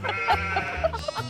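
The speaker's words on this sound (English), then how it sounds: "Those aren't guinea fowl, Debbie, those are sheep." Several sheep bleat in quick, wavering bursts close by, overlapping calls of varying pitch packed into a brief moment.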